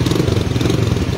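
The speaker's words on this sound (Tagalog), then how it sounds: "Tapos yung tunog ng makina," A modified 150cc PG1 motorcycle engine idles nearby with a steady, even low rumble and a faint rhythmic pulse, heard alone for about a second.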